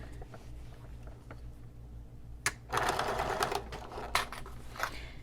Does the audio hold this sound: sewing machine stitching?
yes